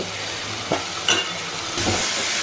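Tomatoes sautéing in a pan for village-style fish gravy, a soft continuous sizzle with a few scraping stirs, close and moderate, no talk.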